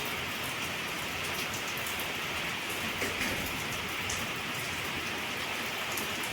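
Steady rain falls continuously, a dense even hiss of drops striking surfaces at a constant level with no voices.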